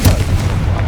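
A Confringo fire-blast spell from Hogwarts Legacy lands as a brief, loud, booming impact with a deep rumbling thud, close and heavy, lasting under a second.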